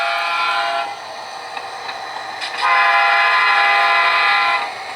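Horn of a model train on a local switching layout, sounding as a long steady blast that drops lower and then returns louder for a second sustained honk, with no talking.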